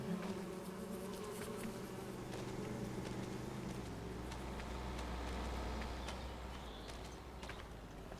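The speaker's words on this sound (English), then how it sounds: "Wouldn't think it would be out here with the bees" Bees in Farming Simulator 25 drone in a steady, continuous buzz throughout, with a low hum beneath and faint clip-clop-like ticks scattered over it.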